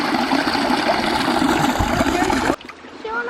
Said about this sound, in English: I love that sound of like natural running water.